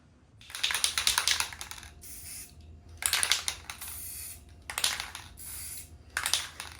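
A spray paint can hisses in several short bursts aimed at a pumpkin, each spray loud and close, separated by quiet gaps.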